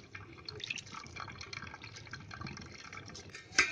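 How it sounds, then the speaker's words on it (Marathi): Cold water pours over cooked rice in a strainer for a Konkani-style navratna pulav, a steady close splashing trickle that runs throughout and ends with a sharper clatter. "आपण चालणीमध्ये भात काढून घेतला ना मग त्याच्यावर असं थंड पाणी ओतायचं जरा"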